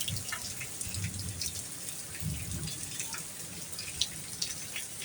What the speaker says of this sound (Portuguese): A chuva tá parando.